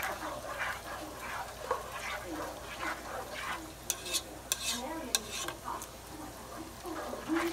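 Ramen ingredients stirred in a pan with roasted garlic, herbs and onion powder, soft repeated scraping strokes over a quiet sizzle, punctuated by several sharp metallic clicks toward the middle.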